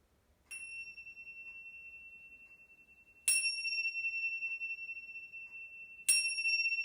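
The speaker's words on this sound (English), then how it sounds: "use your ears to listen to the chime" A chime rings three times at slow, even intervals, each strike bright and close, then sustaining a clear, pure tone that slowly fades into a quiet room.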